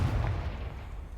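A Confringo fire spell explodes in Hogwarts Legacy, a deep booming blast at the start that quickly decays into a rumbling, crackling tail.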